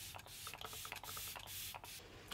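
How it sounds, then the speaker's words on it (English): Kat Von D Lock It setting spray misted onto a face, heard as a run of short, close hissing spritzes in quick succession with no talking. "I'm just gonna go in with some Lock It setting spray from Kat Von D."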